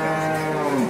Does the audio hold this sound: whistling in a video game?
no